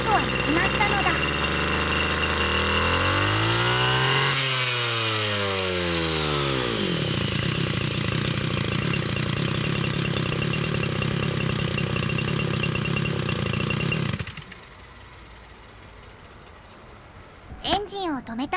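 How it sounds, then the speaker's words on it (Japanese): A small two-stroke brush cutter engine under repair revs up high and holds a steady whine, with a rising then falling pitch sweep early on, before cutting off into quiet. "エンジンを高回転まで回しても止まることはなくなったのだ"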